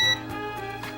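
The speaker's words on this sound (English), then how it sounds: "Push and hold the P button until the machine beeps." A Jura Impressa S9 fully automatic coffee and espresso machine gives a brief electronic beep at the very start, then a low steady hum continues underneath.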